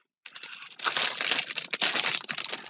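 A pack of report card stickers is handled close up, producing a dense run of crinkling and rustling plastic that follows a short opening rustle.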